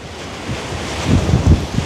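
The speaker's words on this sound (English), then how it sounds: "We have about 2-foot waves right now, and they're white capping and smashing against" Storm waves about two feet high, white-capping and smashing against a lake shore as winds gust around 28 mph, with steady wind rush and surging, rising wave crashes growing louder toward the end.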